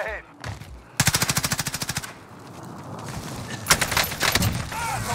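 Rapid automatic AK-47 fire in a video game, a fast burst of evenly spaced shots for about a second, then further gunfire and game noise, loud and close.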